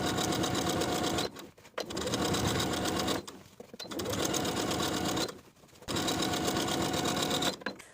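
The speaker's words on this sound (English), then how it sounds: "sewing the facing to its seam allowance underneath with about 1/8 of an inch seam allowance straight across" A sewing machine runs in steady bursts while stitching a pleated skirt's facing to its seam allowance, with about four continuous runs separated by short pauses, close and fairly loud.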